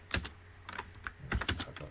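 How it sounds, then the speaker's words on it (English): Computer keyboard typing in a short burst, with several quick, clustered keystrokes tapping out in an irregular rhythm, close and fairly clear with no talking. "just type that there."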